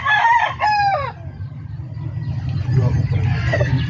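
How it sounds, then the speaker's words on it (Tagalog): Rooster crowing nearby, one loud cock-a-doodle-doo at the start followed by a second fainter crow, over a low steady rumble of background noise. "Tumilaok na siya."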